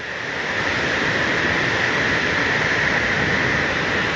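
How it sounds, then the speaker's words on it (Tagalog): Typhoon wind roars in a constant, dense rush close to the microphone, a steady loud wash with no breaks and no talking. "Paikot nga yung hangin."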